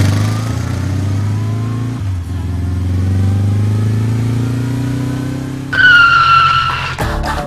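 A car engine hums and drops in pitch as the vehicle brakes suddenly on a potholed road, followed by a sharp rising tonal squeal and a brief clatter near the end.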